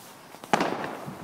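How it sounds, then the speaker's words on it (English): Bonfire Night fireworks going off outdoors, a single sharp bang with a brief crackling tail, moderately loud and at middle distance against quiet background noise. "I'm just looking around at some of these fireworks going off."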